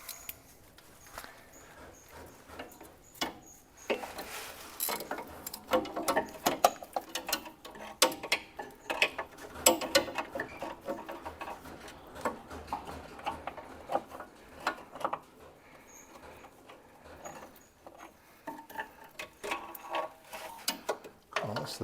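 A ratchet socket wrench works at rusty bolts on a Jaguar XKR, with irregular clicking and metallic scraping in short bursts, fairly close and quiet, no talking.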